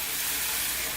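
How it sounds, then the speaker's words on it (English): Steam hissing loudly from a pot of lamb and potato curry, a dense, constant broadband hiss close up that fills the whole moment without a break. "Let's get some steam out of there, and there'll be lots of it."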